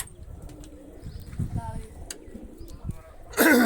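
Rooftop pigeons give a few soft, low coos close by over a quiet background, with brief voices nearby and a sudden loud burst of noise at the very end.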